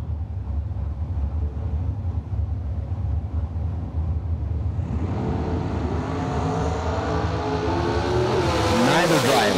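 Dragster engines at a drag strip during a Fall Fling bracket race, a steady loud roar that swells near the end as cars launch and scream past close by, with no one talking.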